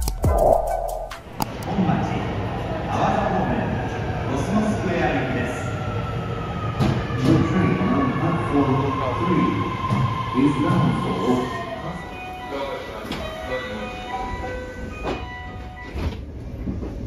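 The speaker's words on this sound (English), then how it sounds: "This is the Osaka Loop Line train to Kyobashi and Tsuruhashi, bound for Tennoji." Osaka Loop Line train in motion, a steady loud rumble of wheels on rail with a long rising-and-falling squeal running through it, heard from inside the carriage with faint voices underneath.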